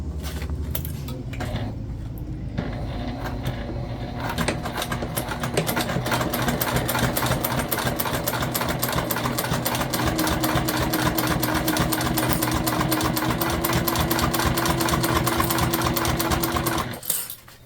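A sewing machine stitches a pouch into a crossbody bag with a steady, rapid mechanical chatter that speeds up after a slow start and holds close and loud before stopping at the end.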